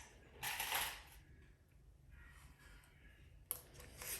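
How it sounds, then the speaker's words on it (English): Sewing clips snapping onto lined-up fabric edges, two sharp plastic clicks against quiet handling of fabric, close and faint. "Line up your edges. Clip into place."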